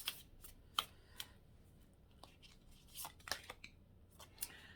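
Tarot cards riffle and slap as they are shuffled and drawn, a quiet, close run of crisp flicks and snaps at irregular intervals with soft rubbing between, no speech.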